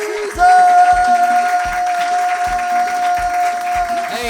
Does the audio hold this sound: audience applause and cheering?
yes